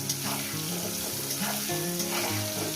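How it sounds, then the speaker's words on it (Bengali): Chicken and onions fry in hot oil with a dense, continuous sizzle, close and even, overlaid by a faint low tonal hum, with no one speaking. "এটাকে আমি সুন্দর করে প্রায় চল্লিশটা মিনিট ভেজে নেবো পেঁয়াজটা"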